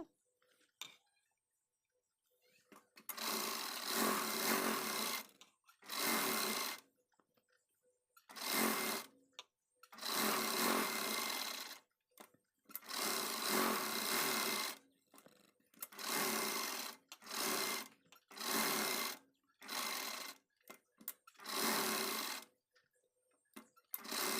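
A sewing machine stitches the back neckline of a party-wear saree blouse in about a dozen loud, close runs of rapid whirring, separated by short pauses.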